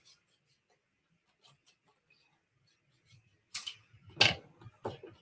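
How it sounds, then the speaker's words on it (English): Paper snips cutting card stock for a strawberry card: a few faint ticks, then three sharp, close snipping bursts near the end, with no talking. "I'm going to cut this out."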